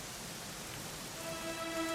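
Rain falls steadily in the ruined city of Dundrasil in Dragon Quest XI, a soft, even patter with a faint tonal hum rising near the end.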